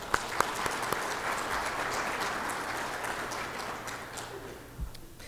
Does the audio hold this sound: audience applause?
yes